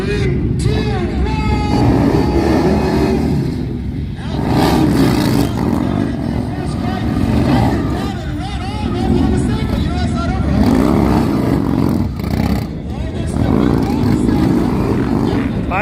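Motorcycles rev and roar at an outdoor drifter drag race, loud engines surging and fading over a crowd's babble, with a voice talking over the din.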